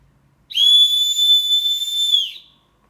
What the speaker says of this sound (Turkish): Dur ona bir düdük çalayım.